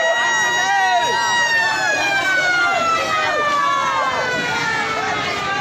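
A Jeneponto fire engine arrives at a burning market in Jeneponto, its wailing siren loud and close, layered with other sweeping siren tones over a continuous crowd and street din.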